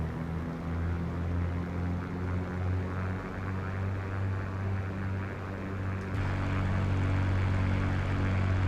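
Steady propeller drone of a Cessna 185 amphibian engine rolling down a runway in Microsoft Flight Simulator 2024, a continuous even hum that swells slightly louder near the end.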